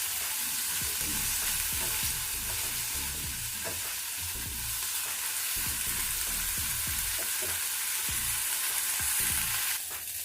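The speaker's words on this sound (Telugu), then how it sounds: "ఈ కొత్తిమీర అంతా కూడా పచ్చి వాసన పోయే వరకు వేయించుకోవాలి" Chopped coriander leaves fry in a pan with a constant bright, hissing sizzle, while soft low thumps and scrapes of stirring recur close by throughout.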